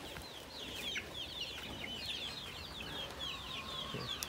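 Two-year-old Black Australorp hens on a farm cluck and chatter in a quiet, fairly distant flock, with repeated short calls scattered across the clip and no speech.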